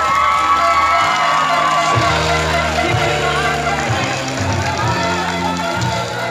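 A crowd at a municipal baseball league final cheers and shouts loudly for the champion team Azules, a dense, sustained roar with whoops and a voice carrying over it.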